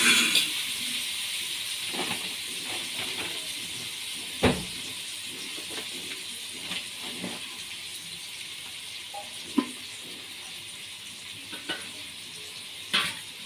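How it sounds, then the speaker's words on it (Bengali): Onion, garlic paste and green chilli paste sizzling in hot oil, a steady frying hiss that runs throughout, broken by occasional sharp pops and utensil clinks. "গরম হয়ে গেছে তেল দিয়ে দিচ্ছি এখন পেঁয়াজ দেব রসুন বাটা দেব কাঁচা লঙ্কা বাটা দেব"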